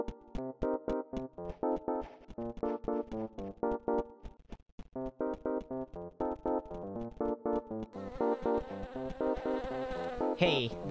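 Bees buzzing in a video game, rendered as a rhythmic stream of short, harmonic buzzing pulses, fairly close and steady, with a denser, noisier stretch near the end.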